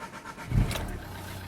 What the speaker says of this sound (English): Next thing to do is just go into the car and start it.